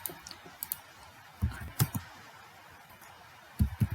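Typing on a computer keyboard while working in CAD software: scattered close key clicks in short bursts, with several quiet gaps between them.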